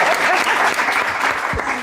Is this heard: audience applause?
yes